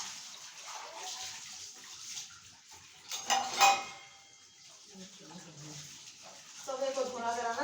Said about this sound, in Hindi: तवे को धोना ज़्यादा मुश्किल होता है